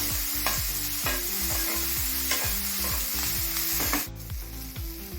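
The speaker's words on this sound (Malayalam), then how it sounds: "തക്കാളി സവാള നല്ലതുപോലെ വഴണ്ട് വന്നിട്ടുണ്ട്" Tomato and onion sautéing in a pan for an egg side dish, with continuous sizzling and frying plus repeated rhythmic scrapes and stirs of a spoon against the pan, close and fairly loud.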